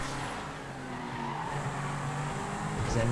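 A Vaca GT2 sports car in GTA FiveM racing with a steady engine drone and tire squeal as it skids, loud and continuous throughout.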